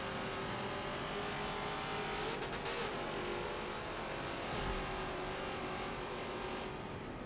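Touring race cars in a video game roar side by side with sustained engine drone and rising revs, steady and close, no voices present.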